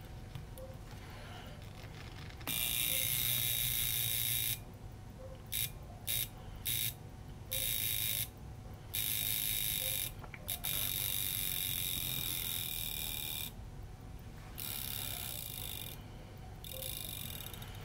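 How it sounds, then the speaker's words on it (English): A restored 1973 Seiko Bell-Matic mechanical wristwatch alarm rings close by as a loud buzzing rattle in repeated on-off bursts, over a faint mechanical background with no speech. "it's time to test the alarm"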